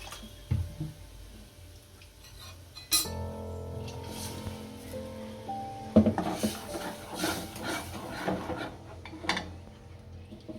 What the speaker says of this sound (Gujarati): થોડુંક પાણી નાખી અને હલાવી નાખીશું